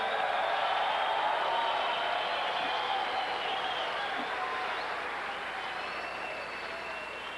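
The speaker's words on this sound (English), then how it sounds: "how about a big warm round of applause for both these fighters right here?" A live audience at the World Extreme Fighting 8 mixed martial arts event in 2000 applauds the fighters with a steady wash of clapping and crowd noise that slowly fades, heard from a distance.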